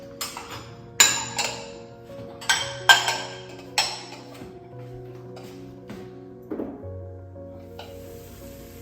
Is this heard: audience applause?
no